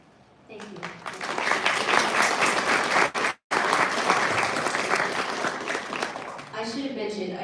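Sustained audience applause fills a room at a city council candidate forum, dense and steady for about seven seconds with a brief dropout midway, then fades as a voice begins speaking at the end.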